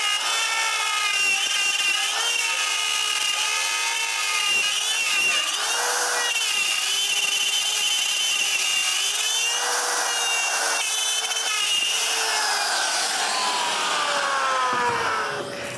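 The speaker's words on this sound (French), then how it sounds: "Puis je peux utiliser la toupie pour couper la forme du haut du poteau." A router cuts the top shape of a post from a walnut block, a loud continuous whine with shifting pitch as the bit bites into the wood, running steadily for the whole stretch without speech.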